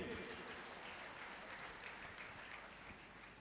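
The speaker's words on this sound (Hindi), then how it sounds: "तो एक बार जोरदार तालियां मेरी पूरी अपलाइन सीरीज के लिए।" A network marketing seminar audience claps together, a steady, fairly quiet wash of many hands with no voices over it, fading slightly toward the end.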